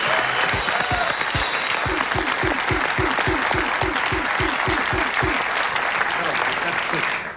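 Studio audience claps loudly and continuously while a rhythmic thumping beat pulses underneath, the applause staying dense and close throughout.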